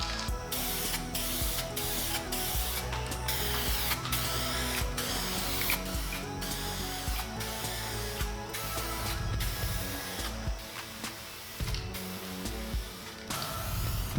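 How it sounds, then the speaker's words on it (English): Eastwood gray epoxy primer sprays from a two-part aerosol can in repeated hissing bursts, set against a dense, steady musical backdrop. "I wanted to test out this aerosol version"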